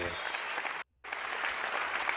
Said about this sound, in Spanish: os voy a pedir un aplauso de despedida, por favor, a esta maravillosa persona